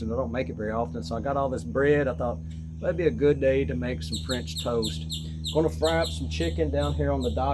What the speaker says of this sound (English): You can be out on the dock and listen to the birds singing